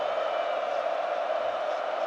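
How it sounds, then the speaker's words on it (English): Crowd at the 2022 FA Cup final between Chelsea and Liverpool, a brief, even, distant hum of massed voices in a stadium with no distinct peaks. "The crowd are getting ready."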